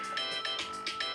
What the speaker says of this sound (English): So that's my alarm.